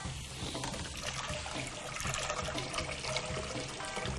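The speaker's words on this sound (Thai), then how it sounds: "ได้แล้วเราก็จะเอามาล้างน้ำเย็นนะครับ" Cold tap water runs steadily over cooked capellini being rinsed, a continuous broad splashing hiss at moderate level with no pauses.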